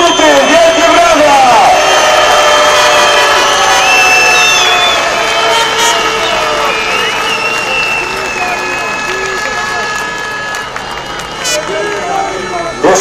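Crowd at a speedway Grand Prix final in Częstochowa applauding the winner Grigorij Laguta: loud, continuous clapping and cheering with shouts, with an amplified announcer talking over it.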